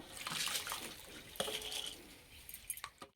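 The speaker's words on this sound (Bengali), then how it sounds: "একটা ছাঁকনির মধ্যে ঢেলে জলটা ঝরাতে দেব।" Water from washed masoor lentils pours through a strainer in a village kitchen, a steady close splashing trickle with a few brief clinks near the end.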